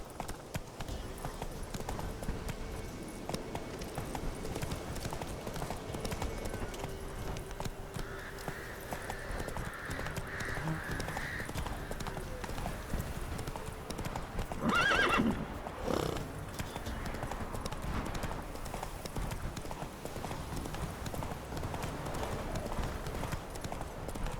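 Roach the horse in The Witcher 3 trotting steadily with rhythmic, close hoofbeats, broken up by a whinny and by brief spoken lines over the clip-clop.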